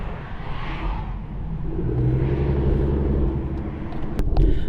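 An S550 Mustang with an Auto Mafia Racing ghost cam tune: a low, rumbling engine drone from inside the car that swells gradually as it accelerates, with a loping idle texture and no talk.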